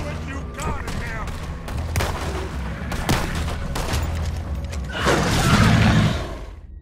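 Gunfire in Red Dead Redemption 2: a volley of repeated shots cracking in quick succession, loud and close, with a heavier roaring burst near the end over game ambience.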